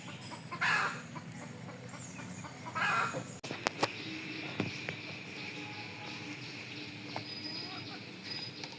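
Chickens cluck and a rooster calls now and then in a home kitchen yard, a few short clucks near the start and scattered bird calls over steady background hiss, with a person talking.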